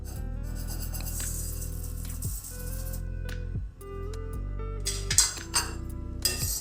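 Whole spices being stirred as they dry roast for curry powder, with scraping and light clinking of the spoon against the pan over a steady low hum, and no one talking.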